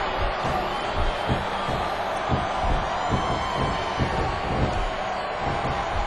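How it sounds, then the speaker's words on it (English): Wrestling crowd at a GCW darkmatch arena, a dense continuous roar with rhythmic pulses suggesting a chant, steady and fairly loud throughout with no clear speech over it. "listen to that chant, Taz."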